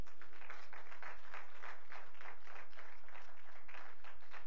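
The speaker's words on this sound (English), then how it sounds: "let's give yourself a hand clap." A congregation claps together during a church service, a steady run of fairly even hand claps filling the space, rhythmic and sustained, without voices on top.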